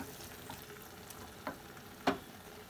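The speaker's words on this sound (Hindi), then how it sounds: "अब हम नमक डालने के बाद एक मिनट और इसे हम बीच बीच में चलाते हुए भून लेंगे" Jackfruit curry stir-frying in a pan, a soft steady sizzle with a couple of faint scraping stirs, heard alone without talk.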